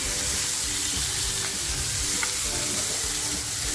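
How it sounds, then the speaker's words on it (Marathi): Onion and tomato sauté in a pan for prawn masala, giving a dense, steady sizzle with a few soft stirring scrapes throughout, loud and close with no talking. "आता आपल्याला एक छान असं परतवून घ्यायचं कांदा साधारण लालसर होत येतोय"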